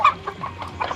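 Chickens clucking softly and repeatedly at close range while being fed, a few short overlapping calls with quiet farmyard background.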